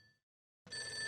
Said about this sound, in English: oh boy, that's the phone again.